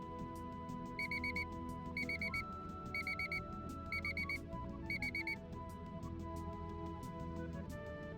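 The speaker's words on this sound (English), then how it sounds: "Did they have to use the exact same sound effect that every alarm clock on the planet that's digital" In Pilotwings 64, a digital alarm clock beeps in five evenly spaced bursts of rapid high beeps, about once per second, over steady game music.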